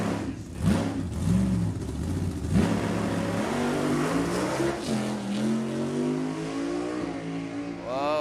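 A 1970 supercharged Camaro and a Nova launch side by side at a drag strip, loud engines roaring and revving up through rising pitches, with a brief crowd-like murmur under the sustained, close engine noise.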